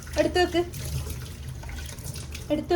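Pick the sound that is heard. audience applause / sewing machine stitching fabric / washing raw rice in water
washing raw rice in water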